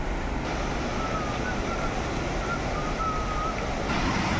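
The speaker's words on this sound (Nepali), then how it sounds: "अब अर्को खोला पनि आयो ल" A mountain stream on a Himalayan trek toward Machhapuchare flows with a steady, broad, close rush of water that stays even and unbroken throughout.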